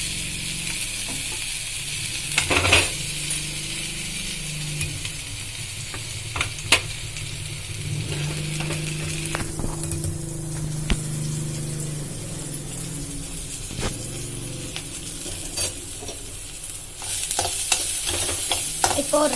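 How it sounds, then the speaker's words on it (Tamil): Chopped ginger, garlic and chilli fry in a pan with steady soft sizzling and repeated sharp stirring scrapes, the hiss swelling louder near the end, with no voices. "இஞ்சி பூண்டு அப்புறம் மிளகாய் நறுக்கி வச்சிருக்கேன் போட்டுடலாம்."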